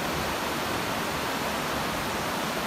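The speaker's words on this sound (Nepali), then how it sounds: "खोला बगिरहेछ तल" A river stream rushes below a suspension bridge near a cave at Manjushree Park in Kirtipur, a steady, loud, unbroken broadband roar of flowing water filling the whole stretch with no break.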